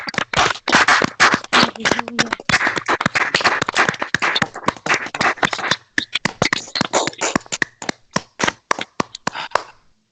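A church congregation applauds with dense, rapid hand clapping that runs steadily throughout, loud and close, briefly thinning near the end.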